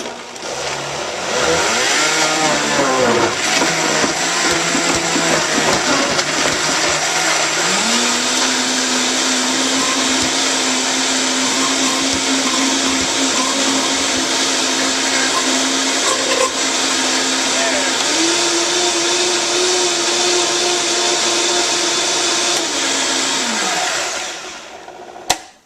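A Vitamix blender whirs through pear and ginger for a raw smoothie, a loud sustained motor roar that ramps up in pitch in steps, steadies, then winds down and stops at the end.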